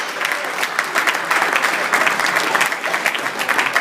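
An audience at a startup pitch event applauding the judges steadily, a dense patter of many hands clapping for several seconds, fairly close and loud.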